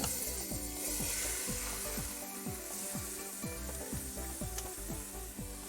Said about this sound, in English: So I'm going to start out browning the stew meat